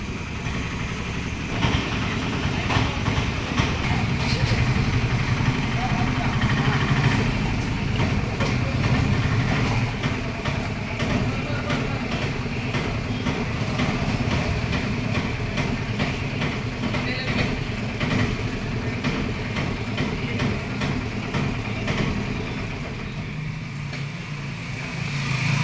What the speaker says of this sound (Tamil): வண்டி ஸ்டார்ட் பண்ணிட்டோம்.